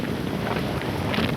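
A steady, loud gust of wind roars over a Goa beach facing a rough, stormy sea, buffeting the microphone in a continuous rush.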